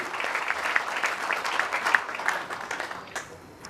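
Audience at an Indian panel event on OTT and film-industry misconduct breaking into welcoming applause, a dense, sustained patter of many hands at moderate distance that gradually thins out near the end.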